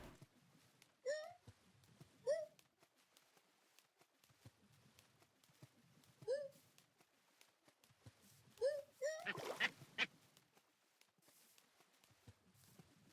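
Monkey mobs in a Minecraft modpack game, several short squeaky, hiccup-like calls in brief bursts separated by quiet gaps, fairly faint, with a burst of noise near the end.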